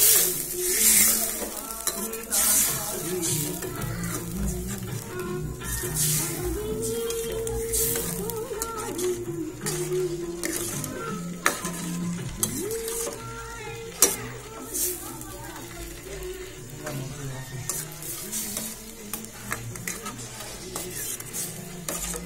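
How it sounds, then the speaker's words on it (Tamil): Bubbling liquid and scraping spoon strokes in a pot, a busy continuous cooking clatter with frequent sharp knocks against the metal. "இப்போ இதனை இந்த தண்ணி நல்லா சூப்பராக கொதிக்கிட்டோம்"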